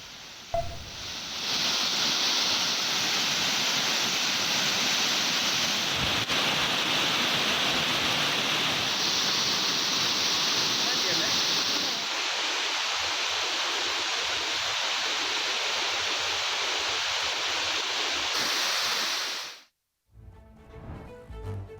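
A waterfall pours in a steady, loud broadband rush that holds for nearly twenty seconds, easing a little partway through, then cuts off abruptly near the end.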